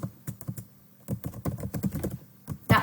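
Someone types on a computer keyboard, producing a brisk, irregular patter of close key clicks with brief pauses and a louder final keystroke.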